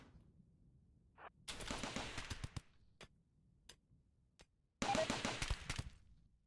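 Gunfire in RimWorld, with bursts of rapid automatic shots, a few single cracks spaced between them and a final loud volley ending in a headshot, all sharp and close against near silence.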